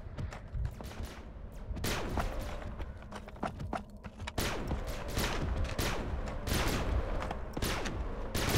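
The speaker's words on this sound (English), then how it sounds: "Look at these shots coming in." Gunfire in the video game Bedlam, a dense run of sharp shots and bursts, some rapid and some spaced apart, loud and close over a busy background.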